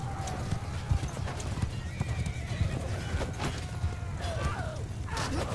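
Horses gallop with dense hoof clatter and let out several shrill neighs during a chaotic video game battle, over a constant rumble of combat and mechanical creaks.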